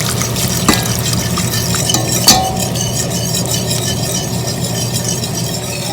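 A whisk beats flour into milk to break up lumps while making croque monsieur. It gives a steady, close scraping and swishing with a couple of sharp clinks against the vessel, and no talking.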